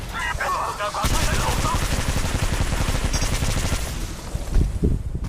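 Sustained automatic gunfire from Apex Legends Mobile rattles in fast, loud bursts, close and continuous through most of the clip, with a few heavier single thumps near the end and a voice speaking over part of it.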